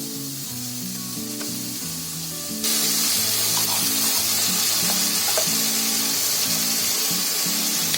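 A radish and black-eyed pea curry with tomatoes is stirred in a hot pan. A soft sizzle with faint scraping jumps suddenly to a louder, steady hiss, with occasional clinks over it.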